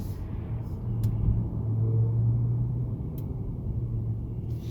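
A 2021 Mercedes E450 4MATIC accelerating and downshifting, heard from inside the car as a low engine rumble that swells and drones steadily, with a couple of faint clicks.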